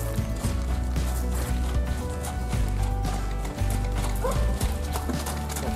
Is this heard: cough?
no